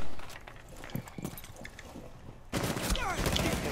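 Gunfire in Rainbow Six Siege: scattered shots at first, then a loud dense burst of rapid fire, with voices faintly in the background.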